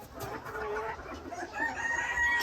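Ornamental chickens in a breeding flock, a rooster crowing over soft clucking and general farmyard bird chatter, moderately near.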